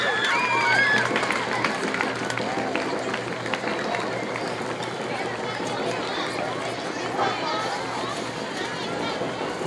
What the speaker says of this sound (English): Let's cheer for them.